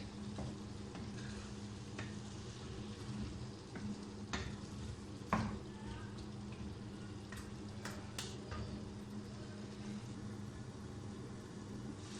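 Potatoes fry in a pan for chicken jalfrezi, a quiet continuous sizzle with occasional clinks and scrapes of stirring, one sharper knock near the middle, and no talk.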